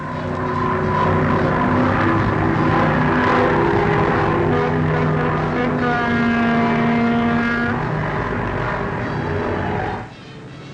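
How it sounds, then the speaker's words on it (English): Engines of Major Mayo's composite aircraft roar past in a loud, sustained drone with shifting tones that swell and fade, then drop off abruptly near the end. "Listen to the triumphant sound of the engines as they roar past."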